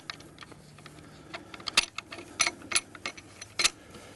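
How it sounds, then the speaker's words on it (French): Sharp clicks, clacks and latch snaps ring out in uneven bursts as a theodolite surveying instrument is unpacked from its case, close and fairly loud over quiet room tone. "déballer l'appareil de référence en topographie qui s'appelle un théodolite"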